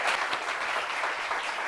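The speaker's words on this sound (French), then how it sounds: "Applaudissements pour Adama." A brief burst of audience applause greets guest Zongo Adama, an artist and comedian, with steady clapping from a crowd close by and no talking.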